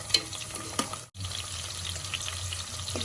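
Small onions sizzle and fry in a pan for village-style chicken curry, a steady close hiss with a few brief stirring scrapes and a short drop to near silence midway.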